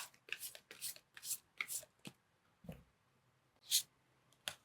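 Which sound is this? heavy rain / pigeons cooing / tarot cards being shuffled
tarot cards being shuffled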